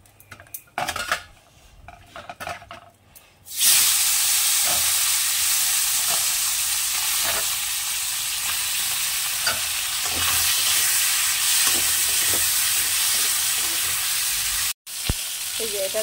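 Fish seasoned with turmeric and salt frying in oil with a tempering of cumin and dried chili, a loud steady sizzle after a short stretch of clattering pan noises, with scattered stirring clinks.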